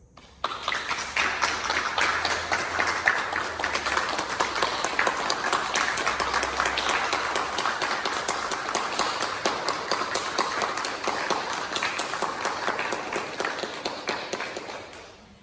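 Sustained applause from an audience at a school awards ceremony, dense steady clapping that carries for about fifteen seconds before tapering off, with no speech over it.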